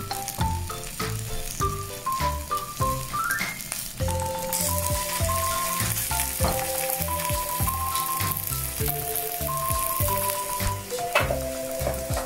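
Potatoes fry in heated oil in a frying pan, giving a steady crackling sizzle with bursts of popping, while melodic background music plays throughout.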